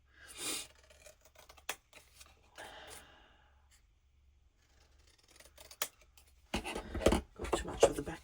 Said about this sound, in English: I'm gonna take the scissors and do it by hand.